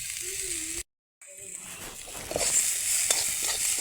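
Chopped onion sautéing in a well-oiled kadai, a steady sizzle with stirring scrapes that fades out briefly and then returns louder and brighter.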